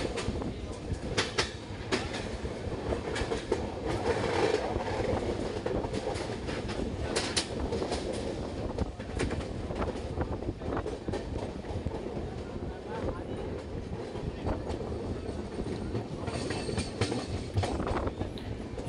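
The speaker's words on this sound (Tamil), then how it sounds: "ஓங்கோல் ரயில்வே ஸ்டேஷனுடைய 1வது பிளாட்ஃபார்மில் ட்ரெயின் இப்போ போய்கிட்டு இருக்குதுங்க." A train rolls steadily along platform 1 at Ongole railway station with continuous rumbling and clickety-clack rhythm, wheels clattering loudly throughout, with faint voices mixed in.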